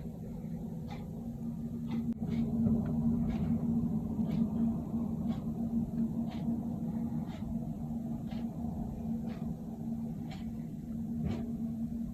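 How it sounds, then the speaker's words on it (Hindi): A snow-removal truck rumbles steadily nearby during a heavy snowstorm on a residential street, with a low continuous engine drone and faint scraping ticks. "स्नो रिमूव करने वाला ट्रक अब आया हुआ है।"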